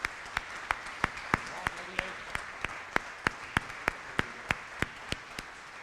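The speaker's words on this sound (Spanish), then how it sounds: "realmente brindar un aplauso a los disertantes" Applause for the speakers on a university management panel, heard here as sparse, evenly spaced single claps, roughly three per second, fairly quiet, over a faint room background.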